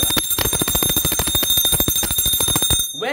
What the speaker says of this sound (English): Ring the bell for